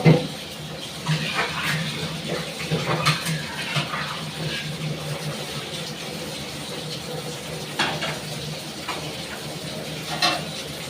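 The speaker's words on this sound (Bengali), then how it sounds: "কড়াইটা ধুয়ে আমি বসিয়ে দেবো।" Running water splashes into a wok as it is washed, with occasional scraping and clanks over a steady watery hiss.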